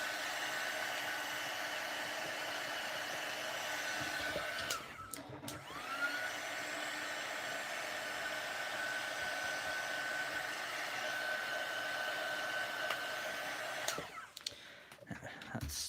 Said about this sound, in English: I'm just using a heat gun here, just trying to heat